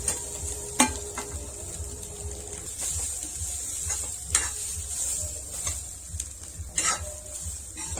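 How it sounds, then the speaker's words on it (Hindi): Khoya and coconut mixture roasting in ghee in a pan, a soft steady sizzle with a spoon scraping and stirring, sharp clinks of the utensil against the pan at intervals. "अब इसे डालकर भून लेंगे"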